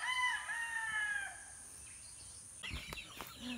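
Chickens on a Philippine farm: a rooster crows in a long rising-and-falling call at moderate distance, followed after a short lull by a few sharper clucks and squawks.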